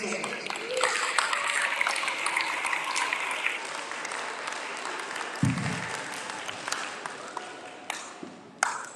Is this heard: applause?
yes